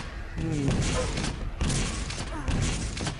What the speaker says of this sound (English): Nice defensive rocket